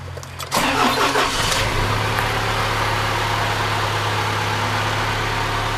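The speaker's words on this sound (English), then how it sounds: "Gonna go ahead and fire her up here for you." A 2008 Isuzu NQR truck engine cranks briefly and catches, then settles into a steady, close, loud idle with a low rumbling hum and no voices.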